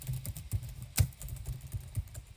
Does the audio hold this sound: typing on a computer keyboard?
yes